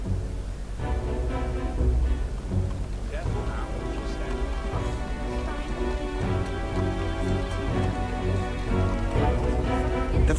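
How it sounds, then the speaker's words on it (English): Rain falls in the video game Metaphor ReFantazio, a steady hiss of downpour that runs throughout beneath music and characters speaking. "Rain's the last thing we need."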